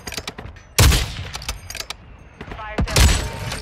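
Gunfire in a shooter video game, with two loud broadband blasts about two seconds apart among scattered lighter clicks and mechanical rattles, heard under a player's voice calling out.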